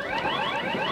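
Home security alarm set off by touch, a loud continuous warbling electronic siren with rising sweeping tones, close and alone.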